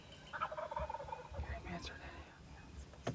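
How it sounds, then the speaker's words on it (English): Several wild turkeys gobble in bursts, some near and some farther off, with quiet rustling between calls. "Birds gobbling everywhere."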